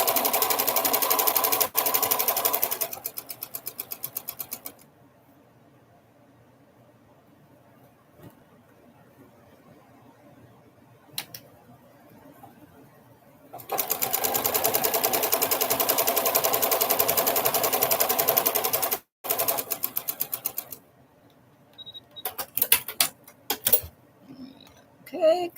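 A home sewing machine stitching in three long runs of rapid, even mechanical whirring, separated by quiet gaps with a few soft clicks and handling noises.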